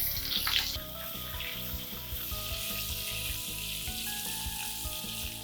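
Drumstick batons and potato wedges fry with mustard seeds in hot oil for a Bihari-style curry, giving a steady close sizzle with crackling pops and a brief louder burst near the start, no voices present.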